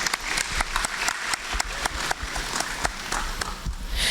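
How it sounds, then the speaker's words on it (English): An audience at a school prize-giving ceremony applauds prize-winning students, a steady, moderately loud patter of many hands with individual sharp claps standing out throughout. "Can we please have a round of applause for our stars?"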